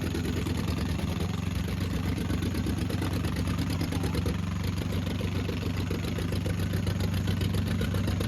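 A worn-out vehicle engine, run without the accelerator, idles in a continuous, steady rumble, loud and close, with a faint chugging pulse throughout.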